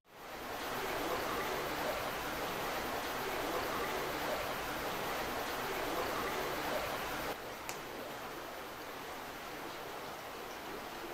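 Steady flowing water near an old covered bridge gives a constant broadband rush that holds level for about seven seconds, then drops slightly quieter with one faint tick.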